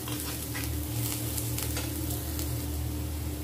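Chopped onion frying in a pan alongside salted, stuffed bitter gourd fillings, with a dense, even sizzle and steady stirring scrapes, close and loud with no speech.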